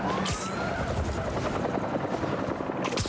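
Rapid, chopping helicopter rotor noise from the video game Spider-Man 2 fills the scene loudly and steadily, with brief sharp bursts that resemble game gunfire.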